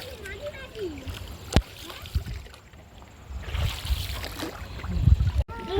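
A boat moves through clear river water, with a low engine or paddling rumble, splashes and water swish, mixed with wind and voices talking nearby.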